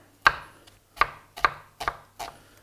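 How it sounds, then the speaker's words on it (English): An onion is chopped on a cutting board, five crisp knife strikes in an uneven, unhurried rhythm, close and clear with nothing else heard. "And the onion we're just gonna chop relatively finely."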